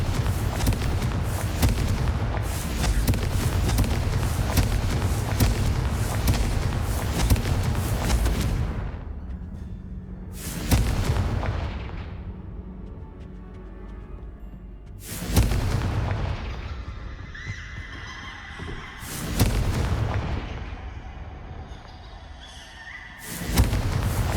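Repeated Confringo blasting spell explosions in the video game Hogwarts Legacy, set in a haunted house: a dense, loud run of booming blasts for about nine seconds, then several separate heavy bursts spaced a few seconds apart.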